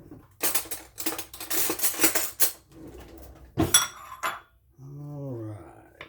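A spoon clinks against a dish while a boxed cake mix dessert is served, a patter of close clatters and taps broken by a sharp knock, then a soft chirping squeak near the end.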